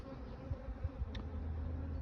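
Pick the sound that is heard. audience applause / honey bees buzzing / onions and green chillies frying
honey bees buzzing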